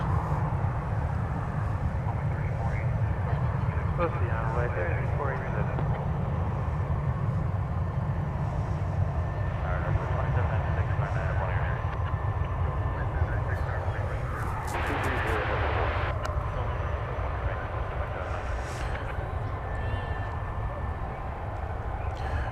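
A jet airliner at Dallas Fort Worth airport lining up for takeoff on runway 18 left, a loud continuous engine roar from a distance with people talking over it.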